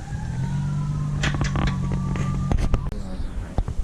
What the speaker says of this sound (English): fire and police cars.